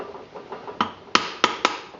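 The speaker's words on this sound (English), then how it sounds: "I built this hammer a couple years ago. It's just an oak handle, brass head, and then it's just got an oak tip on it." Hammer with an oak handle, brass head and oak tip tapping on a John Deere 820 tractor part: a few soft taps, then four sharp, ringing strikes at uneven intervals, close and alone.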